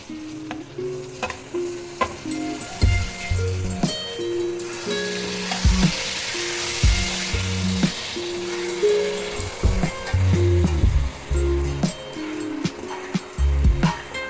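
Onions frying in oil in a pan until golden brown, a steady sizzle under repeated scraping and stirring knocks from a utensil, close and fairly loud throughout.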